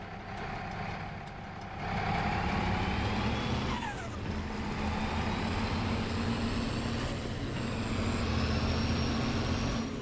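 A truck driving in Farming Simulator: a steady low engine drone with a dense rumble, rising slightly in level partway through, with faint higher whines and clunks, and no talking.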